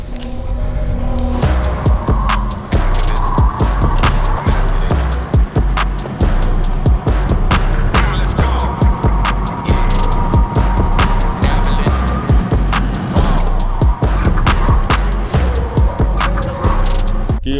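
A Porsche GT3 RS accelerates hard around a race track, its engine loud and continuous with repeated sharp shifts and bumps.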